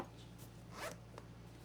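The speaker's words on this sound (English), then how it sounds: "You zip this guy open" A zipper is pulled open on a ThinkTank Essentials Convertible Rolling Backpack, a few quick raspy strokes close by and fairly quiet, with no talking.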